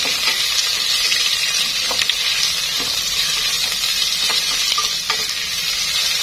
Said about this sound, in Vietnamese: Mình xào dưa cải chua như thế này